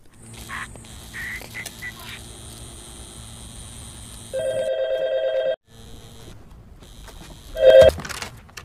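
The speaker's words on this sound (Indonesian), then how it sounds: "disusul dengan sebuah panggilan telepon" An electronic telephone rings in repeated tonal bursts with short pauses between them, over a low background hum.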